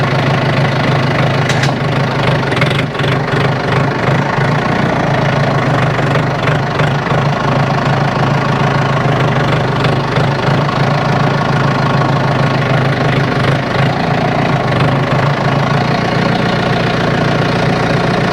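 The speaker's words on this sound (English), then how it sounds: "Look how easy it is with the tractor." Tractor engine under load pulling a vehicle out of thick mud off a high center, a steady loud knocking diesel drone that holds throughout without pause.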